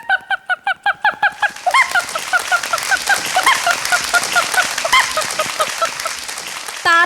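A performer in a mimicry contest imitates a hen with the voice. A run of sharp, evenly spaced clucks speeds up into a busy, squawking cackle, loud and close.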